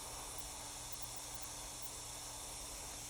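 Continuous airy hiss of an airbrush spraying paint along a panel line on an Airfix 1/24 P-51D Mustang model, steady and unbroken, faint and close, with a low background hum.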